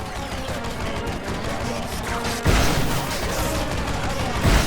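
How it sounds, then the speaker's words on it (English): Continuous heavy gunfire with bursts and booms, a loud dense battle barrage that intensifies midway. "Use your entrencher to shield him from the gunfire."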